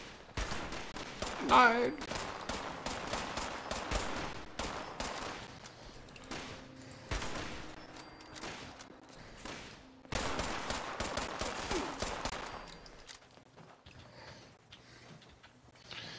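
Rapid automatic weapon fire in the Fallout 76 video game, long dense bursts of shots with short pauses between, loud and close, with a brief shouted voice early on.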